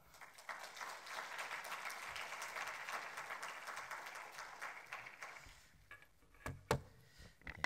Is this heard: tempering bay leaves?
no